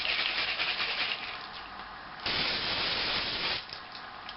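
Hair product sprayed from an aerosol can onto the crown of the head during a big-volume blow-dry styling, a close, loud hiss that runs steadily, eases briefly, then surges again before cutting off.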